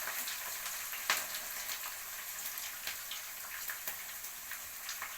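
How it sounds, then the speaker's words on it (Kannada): Onions and green chillies with curry leaves fry in a pan for masala dosa filling, giving a steady, dense sizzle with scattered crackles and pops throughout, close and fairly loud with no voices. "ಈರುಳ್ಳಿ ಚೆನ್ನಾಗಿ ಕೆಂಪಾಗೋವರೆಗೂ ಫ್ರೈ ಮಾಡ್ಕೋಬೇಕು"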